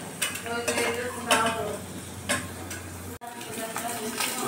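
Chopped onions and garlic fry in white oil for mutton biryani, a close steady sizzle broken by several scraping stirs of a utensil against the pan.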